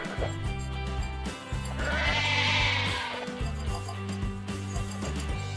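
Sheep in the video game Shroud of the Avatar bleat over and over, with wavering calls layered on top of steady game background music.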